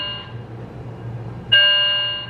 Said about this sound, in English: You see how the fire alarm is just going off randomly?